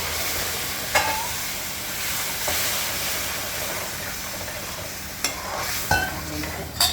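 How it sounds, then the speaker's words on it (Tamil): Water poured into a hot pan for semolina vegetable kitchadi, a steady loud sizzling hiss with a few sharper bursts of spatter and clatter, no talking. "இப்போ வந்து நம்ம 5 கப்பு தண்ணி ஊற்றுறோம்."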